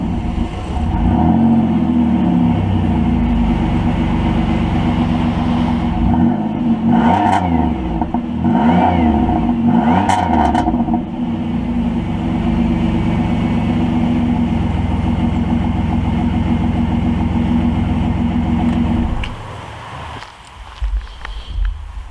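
A 2005 Pontiac Grand Prix 3.8-litre naturally aspirated engine idles with a deep exhaust rumble through a GXP exhaust with no resonator, then revs up several times in quick bursts before settling back and cutting off near the end.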